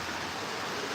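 Heavy rain pours outside in a dense, steady hiss with no breaks, fairly faint and heard alone.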